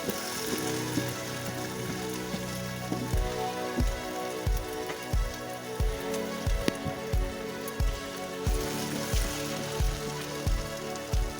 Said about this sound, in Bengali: ঢাকনাটা খুলে দিয়ে এবার আমি সব নেড়ে চেড়ে দিচ্ছি